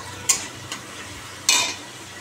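Spice masala and fish frying in oil in a pan, a low background sizzle broken by a few sharp utensil scrapes and clinks against the pan, fairly quiet and close.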